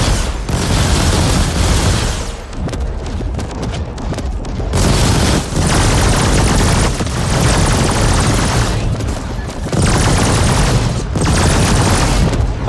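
Loud, dense gunfire from the video game The Ascent: sustained bursts of shots and booming blasts in waves, briefly easing around the middle before erupting again, close and overwhelming.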